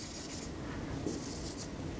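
A stylus pen moves across the screen of a Samsung Galaxy Z Flip 2, producing soft, continuous scratchy strokes in short bursts, faint and close, with no talking.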